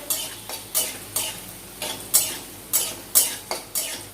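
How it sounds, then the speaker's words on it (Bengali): Bitter gourd frying in a pan for a Bengali dish, with a utensil stirring it in steady repeated strokes, roughly two a second, over a continuous close sizzle. "উচ্ছেটা একটু ভালো করে ভেজে নিই।"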